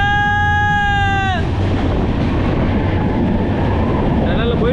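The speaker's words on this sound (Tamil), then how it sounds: "டனல் வருது, உள்ளே போகுது ட்ரெயின் போகுது." A passenger train on the Dudhsagar Falls route in Goa enters a tunnel: a steady tonal horn-like sound gives way to a loud, continuous, close rushing roar that fills the whole stretch.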